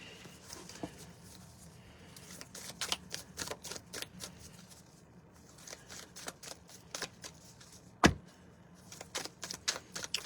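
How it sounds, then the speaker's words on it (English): Repeated crisp riffling bursts of tarot cards being shuffled, close and fairly quiet, with a sharper snap partway through. "So while I'm shuffling, okay."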